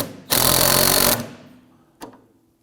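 An impact or air tool with a 14mm socket drives a rear lower control arm bolt on a 2008-2011 Ford Focus: a loud, steady buzzing rattle for about a second, then a single sharp click afterward.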